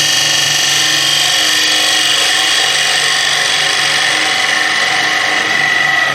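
A skew chisel makes deep V cuts in wood spinning on a lathe, giving a continuous, close, hissing scrape with a steady motor hum beneath.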